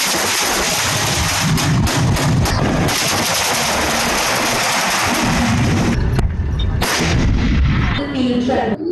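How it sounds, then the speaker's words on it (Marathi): Indian Army artillery and tank gunfire during a firing demonstration at the KK Range in Ahilyanagar, T-72, T-90 and T-55 tanks, loud continuous booming and rapid repeated blasts, with brief lulls near the end. "अहिल्यानगरच्या केके रेंजमध्ये विमान, रॉकेट्स, रणगाडे आणि तोफांचा मारा झाला"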